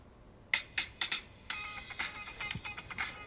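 Music plays from a phone speaker, thin and tinny, with a few quick plucked notes followed by a denser sustained passage, heard alone with no talk.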